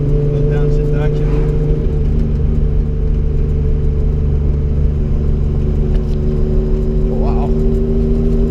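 A 1974 Datsun 260Z engine drones loudly inside the car as the driver downshifts, a steady low rumble with a slight pitch rise toward the end while people talk over it.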